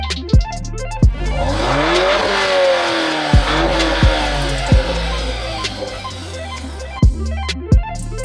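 A manual 2015 Audi TTS with 90k miles drives and revs hard, its engine note climbing and falling through gear changes, with sharp thumps and bursts recurring throughout, loud and close.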